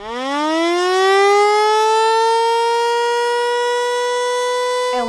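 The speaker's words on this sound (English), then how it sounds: "LMU will begin testing its Eclipse 8 omnidirectional emergency siren system" An Eclipse 8 omnidirectional emergency siren under test at LMU, one long rising wail that climbs and holds a loud, steady tone for several seconds, alone with no voices.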